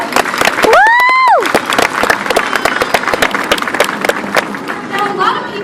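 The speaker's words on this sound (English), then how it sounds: "Colby definitely knows what the sound of your applause means" Audience clapping for Colby the sea lion at an aquarium show, a dense patter of many hands filling the space, with a loud whooping cheer near the start and crowd noise throughout.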